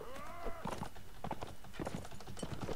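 Horse hooves clip-clop at a gallop in the video game Mount & Blade: Warband, a steady, rapid drumming of hoofbeats with a brief whinny near the start, heard alone without talk.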